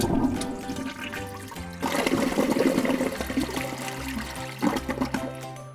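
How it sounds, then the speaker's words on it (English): A toilet flushing, a full rush of water with gurgling swirl through the bowl that surges again near the end, heard close and alone with no voices. "Do you keep a count of your toilet flushes?"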